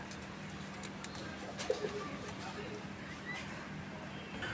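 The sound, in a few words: pigeons cooing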